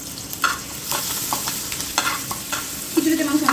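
Onions fry in a little oil for chicken khichuri, stirred repeatedly with scraping strokes over a sizzling bed of hot oil, close and moderately loud, with no talking.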